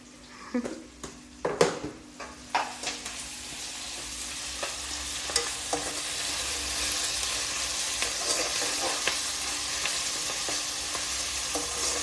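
Ginger garlic paste fries for veg fried rice, opening with several sharp spoon taps and scrapes against the pan before settling into a steady close sizzle.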